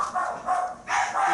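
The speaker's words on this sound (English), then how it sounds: "our dog's barking" A household dog barks in short bursts indoors, three or four loud barks in quick succession separated by brief pauses, fairly close to the listener.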